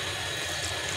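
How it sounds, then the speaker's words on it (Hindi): Water pours steadily into a cooking pot of soaked chana dal lentils over heat, a brief, continuous hissing splash heard up close. "थोड़ा सा पानी इसमें और डालेंगे।"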